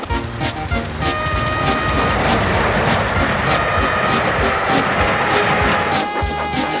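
An engine hauling a string of railway trucks with a loud, continuous rumbling clatter and rhythmic clickety-clack of the wheels, close and steady throughout, without talking over it.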